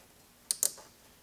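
A heat shield snaps onto the intake hose of a RocEuro 3.0T intake install: two or three quick, crisp plastic clicks close by in an otherwise quiet space.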